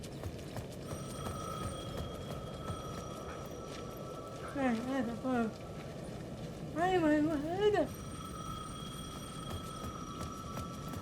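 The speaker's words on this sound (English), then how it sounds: "The payphone at the edge of the plaza was ringing again." A payphone at the edge of a plaza in the video game Alan Wake 2 rings in two warbling bursts, a short one then a longer one, over a constant low ambient hum.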